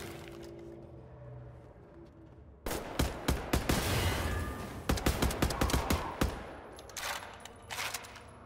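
Assault rifle gunfire in Wolfenstein The New Order, sharp close bursts of rapid automatic shots starting abruptly after a quiet stretch and repeating in several short volleys, loud over a low rumbling background.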